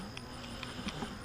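Honey bees buzzing around a beehive in late summer, a faint, steady insect hum with a few individual bees droning past close by.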